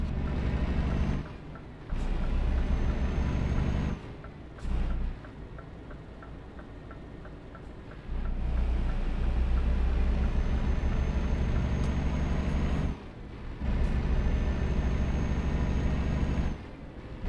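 A truck in Euro Truck Simulator 2 drives with a steady, deep engine drone and a faint ticking. The drone drops out briefly several times, as if for gear changes.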